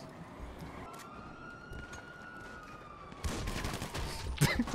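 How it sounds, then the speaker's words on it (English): Gunfire in GTA V, mixed with a wailing police siren sweeping across the scene, then a louder cluster of shots and impacts toward the end. "Shots fired"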